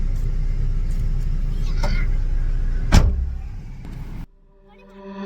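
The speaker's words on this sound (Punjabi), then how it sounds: "ਹੁਣ ਚੱਲ ਆਪਾਂ ਗੱਡੀ ਤੇ" A car runs with a steady low engine rumble and road noise, a sharp thump like a door or window mechanism near the end, then the engine noise drops away to quiet with faint tones.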